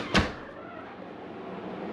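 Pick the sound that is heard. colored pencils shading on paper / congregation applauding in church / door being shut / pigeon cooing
door being shut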